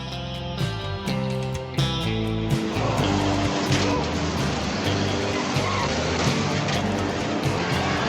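Stock cars race at Norwood Arena, with loud, dense engine roar and tire noise building into a continuous, crowded wash of racing sound, with no talk.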